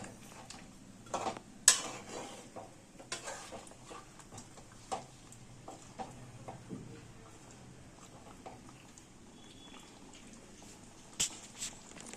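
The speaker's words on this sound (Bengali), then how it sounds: "এবার ভালো করে নাড়িয়ে নেব।" A spoon stirs ground spice paste into chicken in a pot, giving faint scattered scrapes and soft clinks against the metal in an otherwise quiet kitchen, with a few sharper taps standing out.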